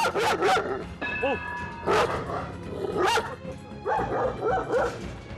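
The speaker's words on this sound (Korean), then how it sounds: "이 산만한 몸으로 짖기까지 하니까 이거 장난 아닌데요" A large dog barks loudly and close by, in several bursts of deep, forceful woofs separated by short pauses, with a brief whiny yelp in between.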